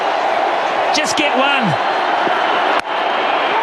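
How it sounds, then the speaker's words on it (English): A cricket stadium crowd roars and cheers loudly and continuously as a batsman reaches a T20 international century against Australia in Christchurch, with a commentator talking over the din. "The crowd's going nuts here."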